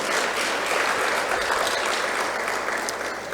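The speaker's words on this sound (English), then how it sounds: "Let us once again give the dignitaries a round of applause for their presence this morning." Audience at a conference opening ceremony claps in a sustained round of applause, dense and even from start to finish, with no talk over it.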